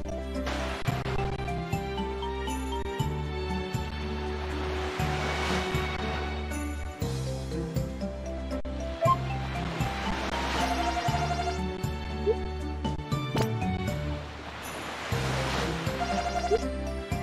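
Ocean waves on a beach near the farm in the video game Harvest Moon: Animal Parade roll in as repeated swelling surges of surf every few seconds over looping background music, with no talk.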